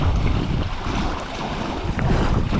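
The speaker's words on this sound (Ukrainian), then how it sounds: "Ні разу ще не ловив таку погоду, щоб були такі хвилі. Тут капець як холодно, вітер прям дує на мене." Strong wind buffets the microphone in a constant roar while waves wash on open water during a cold perch-fishing trip, with no talking.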